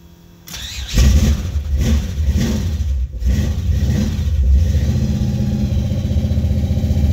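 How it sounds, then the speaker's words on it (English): A Buick 455 Stage-1 V8 in a Regal-T cranks briefly and fires almost immediately, then settles into a loud, close, lumpy idle with a few blips of revving. "Gonna make an attempt at starting the motor."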